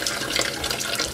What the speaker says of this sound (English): keep running some water over your rocks